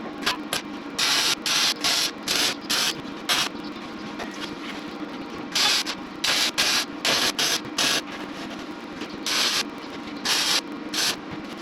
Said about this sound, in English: cleaning everything up and hitting it with the spray bomb